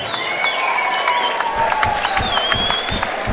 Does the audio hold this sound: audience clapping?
yes